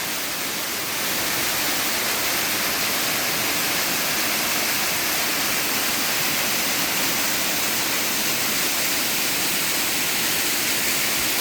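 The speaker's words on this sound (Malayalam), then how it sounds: "ഇതിനോട് ചേർന്ന് തന്നെ ചെറിയൊരു വെള്ളച്ചാട്ടമുണ്ട്" Rushing water pours in a constant, dense hiss, like a small waterfall close by, steady from start to finish.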